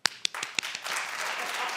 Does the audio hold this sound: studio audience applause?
yes